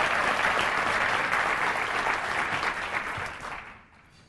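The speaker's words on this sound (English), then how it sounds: "you get your own special round of applause" Sustained round of applause from an awards ceremony audience, dense and steady, tapering off toward the end.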